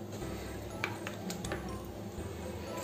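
A metal spoon stirs masala gravy with corn and capsicum in a pan, giving a few faint, scattered clinks and scrapes against the cookware over a low steady kitchen background, with no talking.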